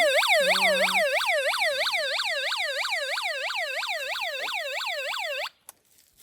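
An electronic wailing siren, likened to a fire engine's, sweeps up and down in rapid, regular cycles for about five seconds, loud and close, then stops abruptly.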